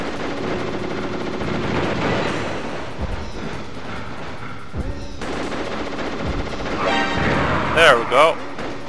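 Gunfire from the video game Metal Gear Solid rattles in dense, sustained automatic bursts under a busy mix of game sound, with a couple of louder sharp shots near the end.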